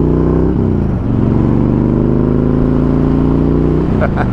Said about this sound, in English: I love the sound of that 2-1 Vance and Hines header